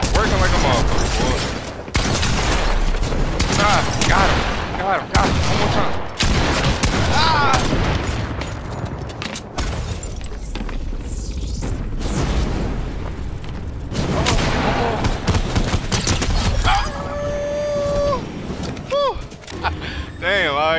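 Dense, continuous Fortnite gunfire and explosive booms in a most-kills match, loud and relentless, with the player talking excitedly over the shooting.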